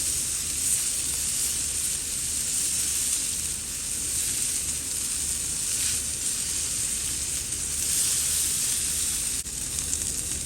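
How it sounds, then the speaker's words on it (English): Ribeye steak edges searing on a Primo Kamado grill give a steady, close, hissing sizzle that holds evenly throughout with slight swells, no voices over it. "We're gonna pull this steak over to the side and get the rest of the sear on this"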